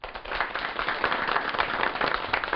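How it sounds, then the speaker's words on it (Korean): An audience claps steadily, a dense patter of hand claps continuing throughout at a lively, even level. "박수로 맞아주십시오."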